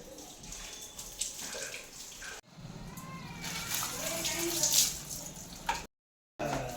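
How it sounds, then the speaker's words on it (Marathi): Buckets of hot water poured for a bath on a home balcony, a steady splashing and running-water wash that swells in the middle and cuts off briefly near the end, heard beneath talking. "इकडे बाल्कनीमध्ये आंघोळ घालते साहिल आणि माझा भाऊ काय आलं गरम पाणी ना दोन बादल्या गरम पाणी केले"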